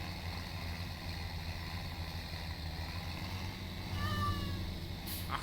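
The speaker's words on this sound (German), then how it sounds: "Ach, Katze." A cat meows in Farming Simulator 17, with faint, wavering cries rising over a steady, constant drone of an idling farm engine.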